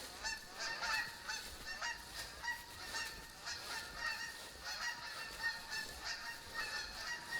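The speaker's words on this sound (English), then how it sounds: "you damn Canadian geese" Canada geese in a hunting video game honk steadily as a flock, many overlapping nasal calls at a fairly even pace, moderately loud and continuous with no talk.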